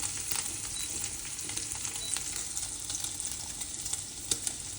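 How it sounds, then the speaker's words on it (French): Bacon lardons fry in a pan with a steady, soft crackling sizzle and scattered pops, close and unbroken with no talk. "là les lardons commencent à être bien cuits là"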